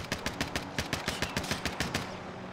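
Rapid automatic gunfire in a video game, a steady string of about fifteen loud, evenly spaced shots close by, fading away at the end, with no voices.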